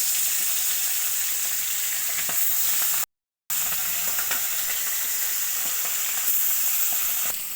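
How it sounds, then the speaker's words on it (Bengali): Pomfret fish fry in mustard oil in a wok, giving a loud, steady sizzle with crackling pops, cut by a brief silent gap partway through. "মাছগুলো আমি একে একে ভেজে নেব।"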